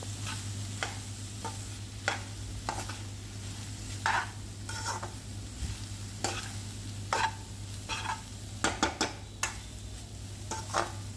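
Soya palak bhurji fries in oil in a pan, with a soft, steady sizzle beneath a low hum. A spoon stirs it in repeated scraping strokes that cluster toward the end. No one speaks.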